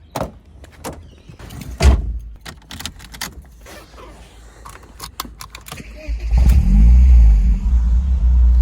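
Clicks and jangling keys and a door, then a 1997 BMW Z3 open-top sports car's engine turns over and revs up loudly, rumbling deep as the car pulls away.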